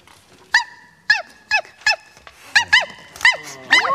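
A human voice imitating a puppy's whimper: a series of short, high, rising-falling yelps, about ten in quick succession, close and clear.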